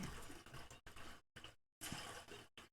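Water sound effect for a video game in development, a rushing, splashing wash that cuts in and out in several bursts with short silent gaps, loud and close.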